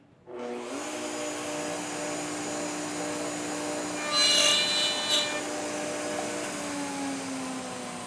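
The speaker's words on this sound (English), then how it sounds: "I'll just make a little quick cut and show you just a bump cut here." A small router bit spinning at high speed whines steadily, then bites briefly into wood for a quick bump cut, the pitch holding before the motor winds on alone.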